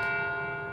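A single bell in the horror video game Vermination rings out with a long, steady metallic tone, its rich overtones sustaining and slowly fading throughout, close and alone with no talk.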